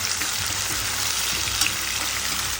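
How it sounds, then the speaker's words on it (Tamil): Chopped small onions frying in oil in a pan for beetroot poriyal, with lentils already in the pan, giving a steady, close, hissing sizzle that runs unbroken for nearly three seconds before cutting off. "வெங்காயம் நல்லா அழகாக பொரிஞ்சிருச்சு"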